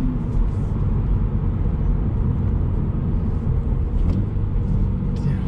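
Toyota GR86 sports car powering out of a corner in second gear, a steady, loud engine drone with road rumble filling the cabin throughout, no sharp revving peaks standing out.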